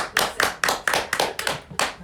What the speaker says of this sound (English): Another round of applause for Sarah Lynn.